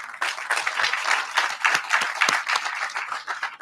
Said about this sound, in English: So how about a round of applause for Jason Kreitner,